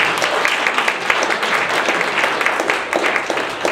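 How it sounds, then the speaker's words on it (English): A workshop audience gives a round of applause, dense steady clapping from many hands filling the room for a few seconds, with no talking over it. "give him another round of applause"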